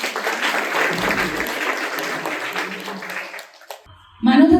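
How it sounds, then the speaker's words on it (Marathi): Strong applause from a crowd at a school function, loud and sustained for several seconds before dying away, then a brief burst of other noise at the end. "त्यासाठी जोरदार टाळ्या"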